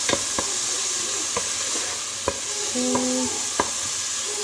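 Onions and garlic frying in a pan over moderate heat, a steady close sizzle broken by occasional sharp taps of a utensil against the pan and a brief tonal squeak, no voices.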